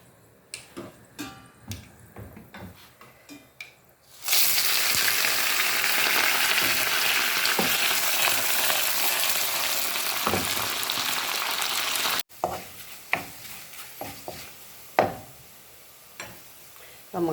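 Onion, dried red chilies and curry leaves hit hot oil in a pan, setting off a loud, steady sizzle that runs for several seconds and then cuts off abruptly, with light clinks and taps before and after.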